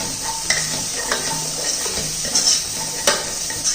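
Onion and garlic sauté in a pan for a spicy weight-loss soup, with a steady close sizzle and a few light stirring scrapes and utensil clinks, and no talk.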